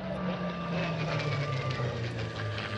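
Aircraft engine droning steadily overhead at the La Ferté Alais air show, a continuous loud roar with a steady hum that holds throughout, with no voices.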